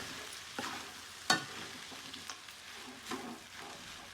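Cooked rice being stirred and mixed in a pan with a spoon, giving a few soft scraping strokes and one sharper clink, fairly quiet with no talking.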